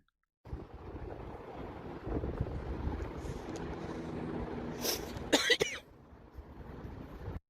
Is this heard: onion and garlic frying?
no